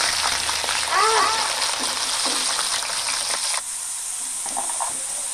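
Cut potatoes frying in a pan and being stirred, a loud bubbling sizzle with a few scraping strokes, the frying dropping to a quieter hiss partway through.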